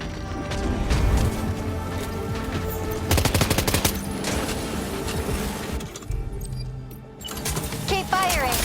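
Gunfire in the video game Death Stranding 2, rapid bursts of automatic shots in fusillades with crashes and clatter, loud and close, over game music and a voice speaking.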